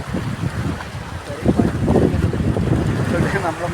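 Sea waves washing in over a shallow pool on a Ratnagiri beach, a loud broad rush of surf mixed with wind buffeting on the microphone, swelling steadily through the clip with no talking.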